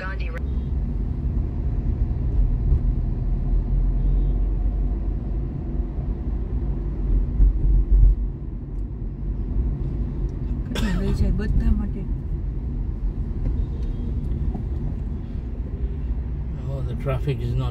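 Chennai road traffic rumbles on steadily from inside a moving vehicle, a low continuous drone with a couple of brief sharper bursts late on.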